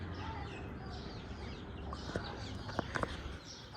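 Chickens cluck softly nearby, a few short bursts toward the end over a faint, steady background hum.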